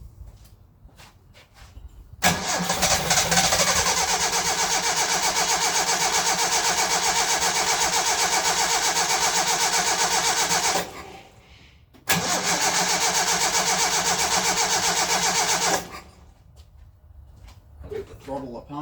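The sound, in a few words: 1968 Datsun 1000 engine starting and running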